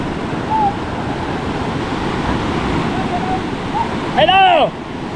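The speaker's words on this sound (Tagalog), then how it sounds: "Lalim ah. Lakas pa ng agos." Deep, fast-flowing river water rushes in a broad, continuous roar close by, with brief voices and a short shout rising over it near the end.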